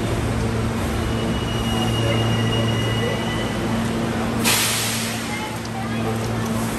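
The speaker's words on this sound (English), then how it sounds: "Is that the front of the train?" A steady rumbling New York City subway train ride to Coney Island with droning hum and rail noise, a brief hiss of air midway, and people talking faintly.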